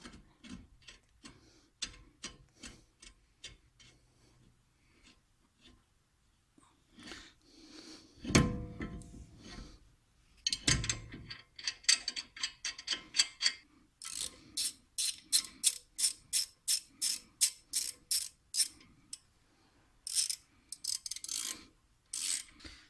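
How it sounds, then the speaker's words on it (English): A lug bolt is tightened on a BMW front brake rotor during a pad and rotor job, with bursts of fast, close ratchet clicking, a few rasping scrapes, then long runs of rhythmic clicks. "To help you keep this in place, go ahead and use one of your lug bolts. Tighten it down."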